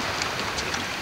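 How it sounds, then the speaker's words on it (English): Steady rain falls outdoors at a 1986 roadside tire change, a continuous close hiss of drops on surfaces with faint scattered pattering and no voices. "See all this rain he sent me down to see."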